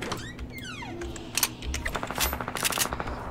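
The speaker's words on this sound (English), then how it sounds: "Machine gun." Rapid machine gun fire in the Fortnite battle royale video game crackles in quick bursts, mixed with other game effects and background noise, moderately loud and without speech.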